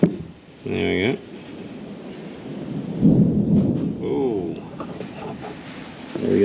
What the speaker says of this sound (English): We got some thunder out there.